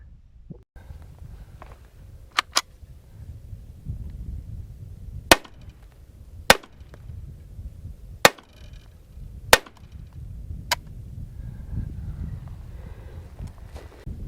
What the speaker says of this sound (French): on va tester la carabine, même exercice, je vais essayer de pas tirer dans les mêmes trous